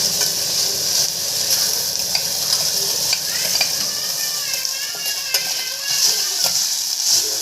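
Indian tempering (vaghar) of crushed ingredients sizzles and fries steadily in a hot pan, a continuous close hiss with faint stirring scrapes and no talk.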